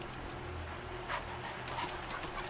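A dog in the post-apocalyptic video game Wasteland 3 pants softly and whimpers over a low ambient background, faint and steady, with light clicking steps.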